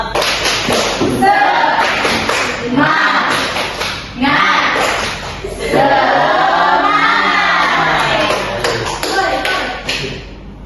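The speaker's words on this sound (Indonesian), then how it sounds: "Tepuk semangat." A class in a peer teaching session performs the tepuk semangat chant, with rhythmic clapping bursts and taps between voices chanting together. Loud and close, it comes in several phrases separated by brief pauses.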